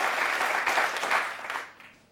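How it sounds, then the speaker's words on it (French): A crowd claps steadily in a dense burst of applause that fades out toward the end. "Voilà, on applaudit."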